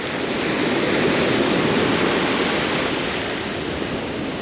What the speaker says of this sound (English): So they are private beaches, and there are some big waves